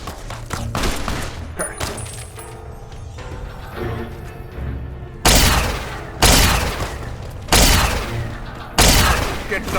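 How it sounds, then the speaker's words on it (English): Gunfire in the video game Fallout New Vegas: scattered shots and loud crashing blasts, ending in four heavy booming bursts at an even pace, close and harsh, with some shouting between them. "who's shooting me?"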